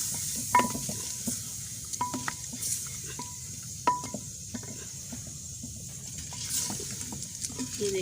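Spices such as turmeric, red chili powder, salt, black cardamom and cinnamon pieces get stirred into mutton in a pot, with a utensil scraping and clinking against the metal over a steady low sizzle.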